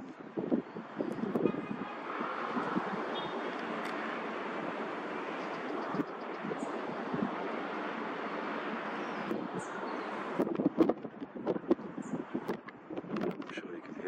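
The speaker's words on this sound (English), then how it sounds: "I'm sure you can hear the wind" Wind gusts buffet an outdoor microphone in Gibraltar, a fluctuating broadband roar with uneven surges and thumps, while a person talks underneath in places.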